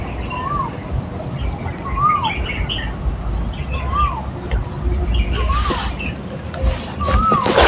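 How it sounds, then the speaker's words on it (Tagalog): Outdoors, a bird repeats a rising-and-falling whistled call about every one to two seconds over a steady bed of insect buzzing, fairly close, with faint background murmurs of people. "abangan natin yung ibon"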